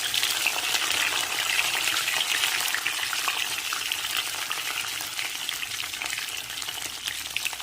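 Ginger and bay leaves fry in hot oil with a loud, close, bright sizzle that holds steady and fades slightly over several seconds, with no voices.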